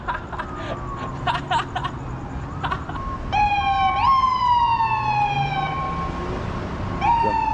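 A police siren in Los Angeles wails with rising and falling tones over steady traffic noise, loud and fairly close, after a stretch of faint voices.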